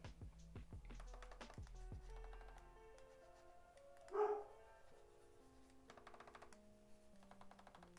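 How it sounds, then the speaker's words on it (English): A dog lets out a single bark at some distance, while keyboard typing and clicking go on nearby and soft music plays quietly underneath. "my dog's barking again"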